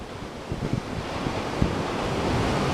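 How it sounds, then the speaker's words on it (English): Waves washing onto Las Canteras beach in Las Palmas, Gran Canaria, a steady broadband surf hiss with soft low thumps of breaking water and some wind buffeting, no voices. "We're in Las Canteras beach, Las Palmas."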